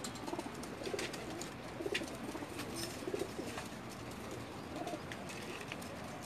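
Pakistani pigeons coo softly and repeatedly on a rooftop loft in Jeddah, Saudi Arabia, their low murmuring calls repeating at a moderate distance over a steady hum of background noise.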